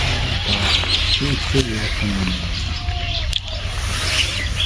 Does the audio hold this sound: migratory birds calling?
yes